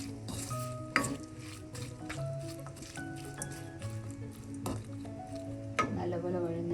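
Onions being stirred as they fry in a pan with a little salt, for a Kerala prawn dish: a steady sizzle with repeated scraping stirs and a few sharp utensil knocks against the pan, close and fairly loud.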